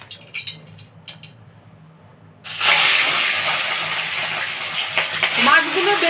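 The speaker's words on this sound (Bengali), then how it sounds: "কড়াইয়ে তেল দিয়ে দিয়েছি। এবারে দেখুন মাছগুলো আমি দিচ্ছি।" Pieces of katla fish hit hot oil in a kadai and set off a loud, steady sizzling hiss that lasts to the end, after a brief stretch of quieter kitchen sounds with a voice.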